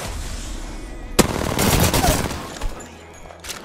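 Gunfire from a weapon in the video game Apex Legends bursts out loudly after a second of quiet, a rapid cluster of shots followed by fading echoes and a fainter late shot.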